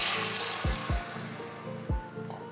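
Water poured into a pan of vermicelli biryani, a steady splashing fill with a few sharp glugging bursts, close and moderately quiet.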